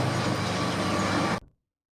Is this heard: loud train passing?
yes